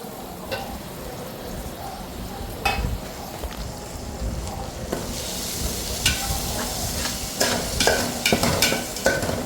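Onions and tomatoes sautéing in oil in a pan for biryani, with repeated stirring scrapes and spoon taps over a continuous sizzle that grows busier and louder toward the end.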